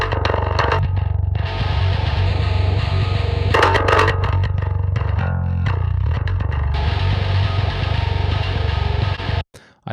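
A bass track for a song plays with the bass's built-in distortion acting on its top end. It sounds loud, dense and gritty, with low notes held steadily under a fuzzy upper layer and a brief drop-out near the end.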